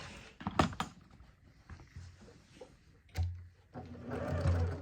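A sewing machine runs in short bursts as it edge-stitches around folded fabric origami, close and fairly loud, with brief pauses and some handling knocks between runs.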